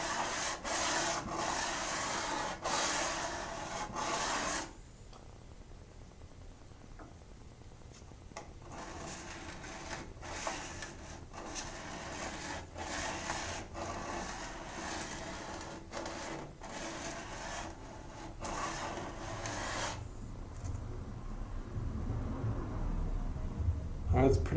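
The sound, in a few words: sanding knife handle scales on a belt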